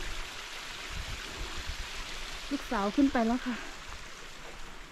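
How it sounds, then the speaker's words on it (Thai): Steady rushing water from a waterfall beside a mountain hiking trail forms a constant background hiss, while someone speaks briefly over it partway through. "มีน้ำตกข้างบนนี"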